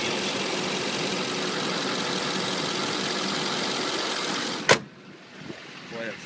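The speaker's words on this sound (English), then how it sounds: "that's nice to hear a quiet diesel motor" A 2007 GMC Sierra diesel 4x4 idling, a steady, fairly quiet engine hum for several seconds that cuts off abruptly with a sharp thump, leaving faint background noise.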